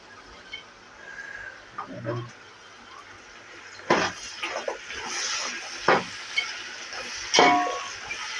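Vegetables for a Muslim-style veg dum biryani sautéing in oil, a steady sizzle with several louder stirring scrapes of the spoon in the pan, close and moderately loud.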